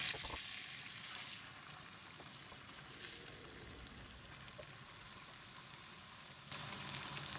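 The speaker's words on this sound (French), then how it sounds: "Une fois que la casserole est bien chaude, vous mettez les tranches" Turkey slices in olive oil in a hot pan sizzle as a constant soft hiss, slightly louder near the end, with no voices.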